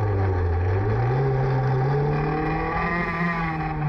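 Formula V1 race cars pull away at the start of a race, a loud steady engine drone climbing gradually in pitch as several motors rev together close by.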